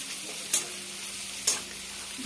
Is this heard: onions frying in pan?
yes